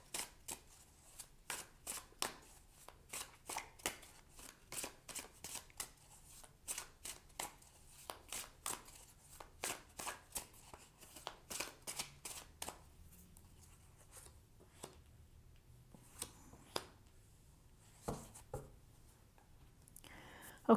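Tarot cards being shuffled and drawn, a long run of crisp riffling card flicks in a steady rhythm, close and dry, thinning to scattered slaps and card handling near the end.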